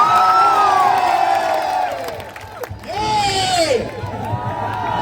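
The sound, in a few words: crowd cheering at ceremony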